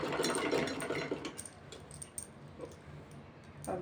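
A sewing machine stitches fabric for a baby frock made from an old men's shirt, running in a fast, close mechanical whir with small clicks that slows and stops, then restarts briefly.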